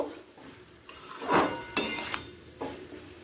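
A spoon turning a spiced potato filling for samosas in a pan, with scraping strokes and light clinks against the metal over a faint sizzle, close and fairly quiet, no voices.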